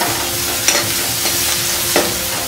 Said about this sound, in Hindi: 5 से 6 कड़ी पत्ता और 1 बारीक कटा हुआ प्याज। सारे चीजों को अच्छे से मिक्स करूंगी।